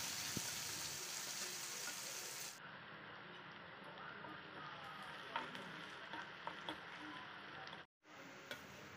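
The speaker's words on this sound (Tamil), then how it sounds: "கடுகு பொரிஞ்சதும் பொடியாக நறுக்கின வெங்காயம் ஒரு கொத்து கருவேப்பிலை சேர்த்துக்கலாம்." Onions and curry leaves fry in hot oil with a loud, steady sizzle, scattered crackles and pops running throughout.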